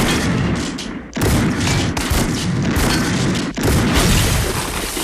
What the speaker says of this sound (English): he has shot him like 9 times with a shotgun